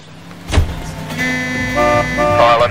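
A car in L.A. Noire starts off and drives, with a sharp thump followed by a steady engine drone, and a rising tone that layers in as it gets under way, fairly loud and near.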